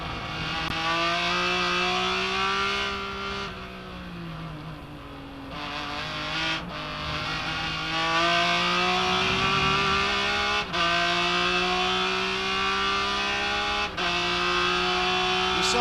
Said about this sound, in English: Beautiful onboard vision and sound from Hans Stuck